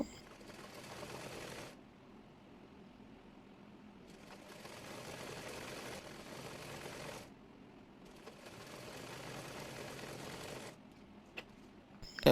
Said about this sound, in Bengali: ফিতা সেলাই করে নেব